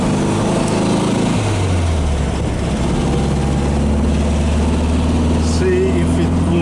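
A 1969 Volkswagen Beetle's air-cooled engine drones steadily while climbing a hill in third gear, a loud, continuous buzzing hum with a pitch that shifts slightly as it labors, and someone talks over it.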